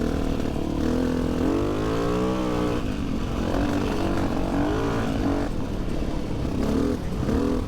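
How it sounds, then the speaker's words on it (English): A dirt bike with a rebuilt engine and new piston rides a forest trail, its motor droning loudly and steadily close by, rising and falling with throttle changes throughout. "the bike is also running a lot better now. New piston and rebuild, so there is a lot more power"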